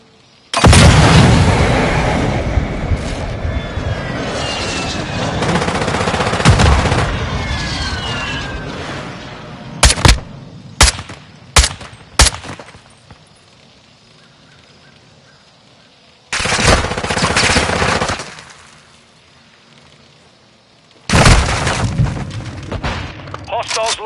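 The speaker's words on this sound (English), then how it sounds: "Enemy precision airstrike." Enemy precision airstrike in Modern Warfare, with bursts of machine-gun fire and heavy explosions: a long roaring barrage, then several sharp separate blasts, then two more loud roaring bursts after quiet gaps, with a voice talking at times.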